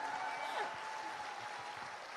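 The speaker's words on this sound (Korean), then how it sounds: "Berikan tepuk tangannya." Audience applause at a company academy event in Indonesia, a brief, faint burst of clapping heard from a distance, steady and even throughout.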